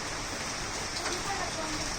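Heavy rain pours steadily as a dense, even hiss with no breaks, close by and fairly loud throughout.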